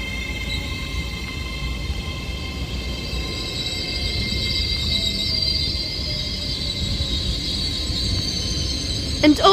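An Avanti West Coast Class 807 electric train pulls into Liverpool South Parkway station on the West Coast Main Line, its steady rumble joined by sustained high whining and squealing tones as it approaches.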